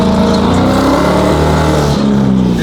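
A Dodge Hellcat truck doing a burnout at an October truck meet, its engine roaring loud and steady close by, with the pitch rising and shifting as the revs change and no clear talk over it.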